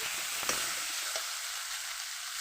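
Spices with coriander powder and turmeric powder fry in a pan for a rohu fish head and yam curry, giving a continuous soft sizzle with a few light scraping stirs, fairly quiet and with no voices.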